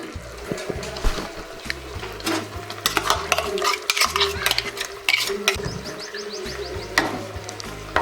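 Ground paste being stirred into a pot of drumstick kuzhambu, a ladle scraping and clinking against the metal in an irregular rhythm, close and fairly loud, with light simmering bubbles underneath.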